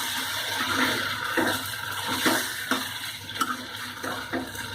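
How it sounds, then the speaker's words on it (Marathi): Colocasia leaf bhaji being stirred and mixed in a pot, with wet scraping and sloshing strokes repeating at an irregular pace, close and moderately loud. "हा बघा, चांगला आपण मिक्स करून घेऊया."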